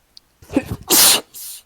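One close, loud human sneeze during a tabletop role-playing session: a short breathy intake, then a sharp, explosive burst and a brief hissing tail.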